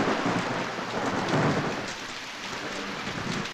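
Heavy rain pours down in a steady, dense hiss with deep rolling thunder rumbling underneath, loud and continuous throughout, with no voices.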